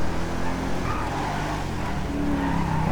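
A Premio car driven recklessly in GTA V, its engine droning loudly and steadily while the tires skid and squeal, close and continuous with no speech.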